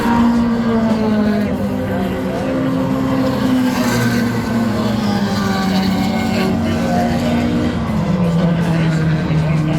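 Race cars run together on the MSR Houston track during a 24 Hours of Lemons endurance race, a loud steady engine drone with a shifting pitch that drops near the end. Voices talk over it.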